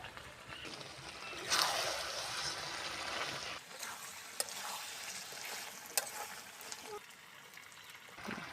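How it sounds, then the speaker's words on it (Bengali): Chicken sautés with ground garam masala paste in a pan, giving a steady close sizzle and frying hiss with occasional stirring scrapes and clicks. The sizzle grows louder around the start and settles into a softer continuous crackle. "এই যে গরম মশলা বাটা দিলাম। এইবার কিছুখানা কষতে থাকবো"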